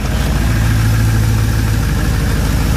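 An old, oil-leaking beater car's engine idling rough and steady, loud and close, a continuous low throb with no voices.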